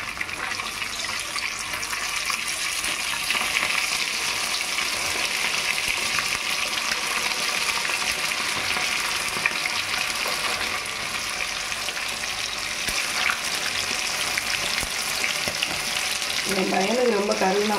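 Food fries with a steady, loud sizzle in a pan and is stirred now and then, the crackling hiss continuing throughout, with a brief voice near the end.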